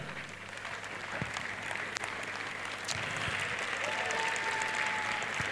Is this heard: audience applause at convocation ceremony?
yes